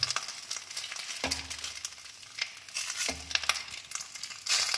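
Small bhola fish paturi wrapped in banana leaves fries in a generous amount of oil, giving a steady close crackling sizzle broken by a few short scraping, stirring bursts.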